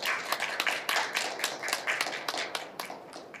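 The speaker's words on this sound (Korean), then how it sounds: "큰 박수로 우리 정연희 교수님 모시겠습니다" An audience at a Gongju culture and arts education forum claps to welcome a speaker: brisk, uneven clapping from a modest crowd, close and fairly loud, with no voices over it.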